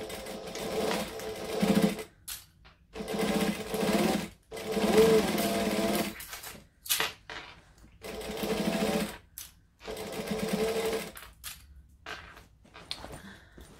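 A sewing machine stitching a bag runs in repeated bursts of steady, whirring needle stitching, each lasting a second or two and separated by short pauses, close and clear.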